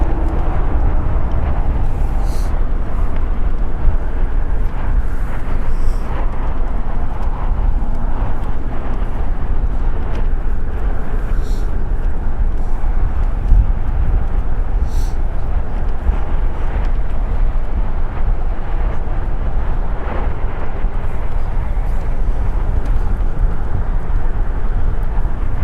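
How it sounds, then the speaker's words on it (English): Boeing 747-8 freighter, ten years old, operated by Polar Air Cargo for DHL, taking off at LAX; a steady, unbroken rumbling jet roar that holds a constant level throughout, with no voices. "DHL operated by Polar Air Cargo taking off. Flight 9601 going to Seoul. A Boeing 747-8 freighter."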